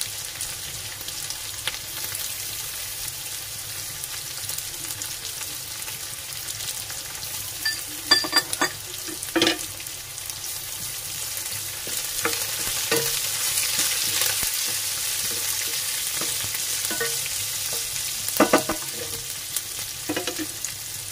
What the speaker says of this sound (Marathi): कांदा चांगला फ्राय करून घेऊन